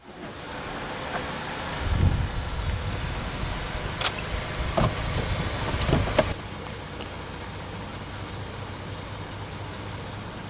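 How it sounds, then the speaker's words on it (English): A parked police car's engine idles steadily under heavy wind noise, with a few brief knocks and a faint high whine until the rumble settles into a quieter, even idle. "So the car's running"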